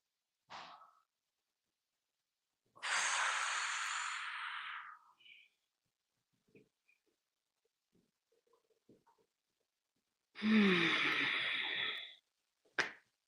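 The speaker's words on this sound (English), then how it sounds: "you can breathe like inhale one direction, exhale the other direction" Slow qigong breathing during a class, a long audible exhale of about two seconds and later a second long breath, with near silence and faint small movements between them.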